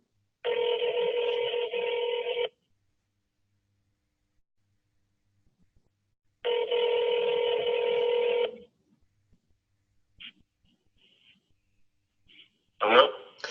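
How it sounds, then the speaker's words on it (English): A telephone rings in two long electronic bursts separated by silence, followed by a few faint clicks. "You can hear pretty well the phone ringing."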